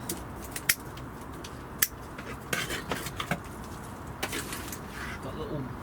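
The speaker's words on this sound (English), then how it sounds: "just chop the tops off" A blade snips the tops off freshly harvested vegetables outdoors in a garden: sharp, scattered cuts, some in quick clusters, fairly close. Birds coo in the background, and a voice speaks now and then.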